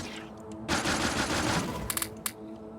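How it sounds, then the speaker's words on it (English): Gun turrets in Factorio fire a dense rapid burst at enemies for about a second, close and loud, followed by a few sharp single shots. "now we're going to use our turret to do the turret creep"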